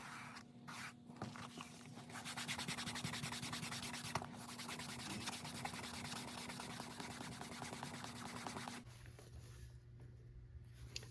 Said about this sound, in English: I want to burnish the edges of this before I sew it to the body of the tote.